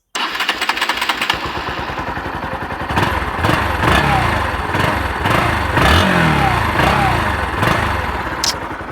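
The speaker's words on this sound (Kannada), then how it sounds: "ಸೊ ಇವೆಲ್ಲ ವೆಯ್ಟ್ ಮಾಡ್ತಿರೋದೇನು ಎಕ್ಸಾಸ್ಟ್ ನೋಟ್ ತೋರಿಸ್ತೀನಿ ಬನ್ನಿ" A Bajaj Pulsar NS 160 motorcycle with an underbelly exhaust starts and idles close by, then its rumbling note swells with several throttle blips and revs that rise and fall, with no talk over it.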